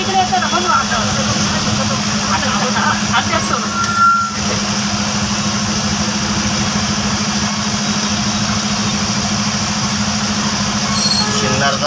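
A steady low rumble of idling truck engines fills a traffic jam of trucks stuck on the Mohadari ghat section of the Pune–Nashik highway near Sinnar. The drone holds evenly throughout with little change.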